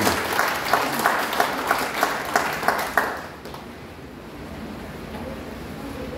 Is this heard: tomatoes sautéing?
no